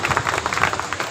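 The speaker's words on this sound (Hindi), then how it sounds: "लड़के के लिए जोरदार तालियां" A short burst of crowd clapping at an Independence Day program on 15 August, a quick, dense patter of many hands heard for just over a second.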